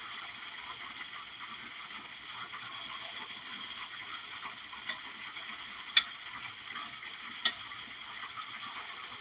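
Fritters frying in hot oil give a steady, faint crackling sizzle throughout, broken by a couple of sharp clicks.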